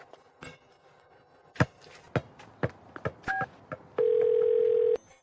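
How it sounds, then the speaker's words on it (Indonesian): A telephone being dialed for a call: a series of short key taps and tone beeps, then a sustained steady ring tone lasting about a second at the end. "Aku telepon Maya sekarang, biar kamu tahu."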